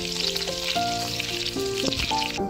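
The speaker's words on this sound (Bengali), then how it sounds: "এই চিড়ে কাঁচা লঙ্কাগুলো, অল্প করে রসুন, এটা একটু ফ্রাই হতে দেবো।" Green chillies and garlic fry in a pan for white sauce pasta, a steady close sizzle and crackle running the whole time, with tonal ringing lines above the hiss and no talking.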